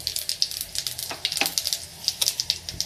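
Close, crackling sizzle with rapid little pops as whole cumin seeds hit hot mustard oil, steady throughout with bright spitting bursts.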